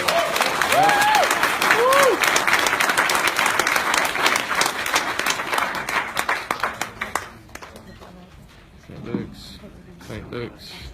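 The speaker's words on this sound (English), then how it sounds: "Another round of applause for those guys." At a blockchain launch event, a crowd applauds loudly with some whoops, the clapping thinning into scattered claps before a few voices speak over the quieter room near the end.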